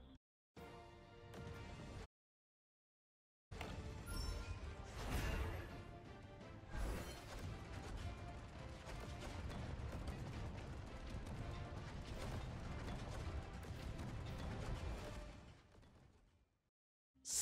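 Flame tank attacking in the mobile game Top Mech: a loud, dense roar of crashing blasts and rumbling fire, building after a short quiet gap and sustained for many seconds before cutting off abruptly.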